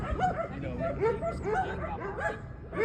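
Several dogs bark and yip in short, repeated bursts with some whimpering, fairly close and steady throughout, while a person talks over them at a home.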